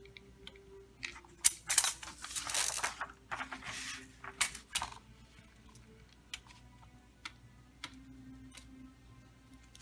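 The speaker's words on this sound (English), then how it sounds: "here is the cutter. So I'm going to find 4 inches and cut." Vellum paper being cut with a Fiskars circle cutter, giving quiet close scraping and rustling bursts followed by scattered small ticks and clicks, no talking.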